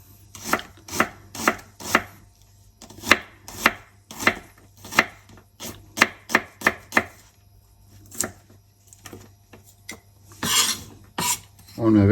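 A knife chops an onion into strips on a cutting board for a macaroni, cheese and bacon dish, with a steady run of about twenty crisp, close cuts followed by a brief scraping rustle at the end.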